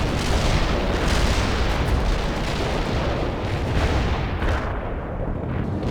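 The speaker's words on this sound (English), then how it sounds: "Hostile target. Commencing the barrage." An artillery barrage pounds in the video game World in Conflict, a loud, continuous roar of overlapping booms and blasts that rumbles without pause for several seconds.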